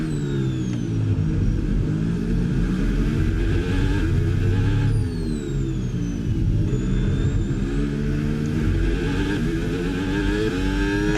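F1 26 video game Formula 1 race cars at the Mexico circuit, engines droning and revving loudly and continuously with rising and falling pitch sweeps as cars pass, no talking.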